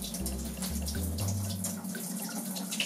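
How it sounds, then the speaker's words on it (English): Homemade wine from bottled juice draining out of a spigot into a measuring cylinder, a steady close trickle of pouring liquid with a low gurgle that shifts in pitch as the cylinder fills. "I'm going to use that spigot to fill up the cylinder that I'll be using to measure the alcohol content of the wine."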